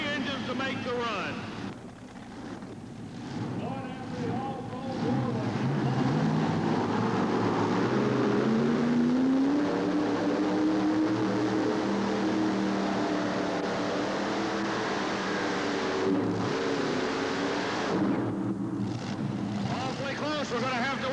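Multi-engine Irish Challenger pulling tractor running on three engines at a 1988 Charlotte tractor pull, a loud sustained engine roar that rises in pitch and holds steady, with commentary over it.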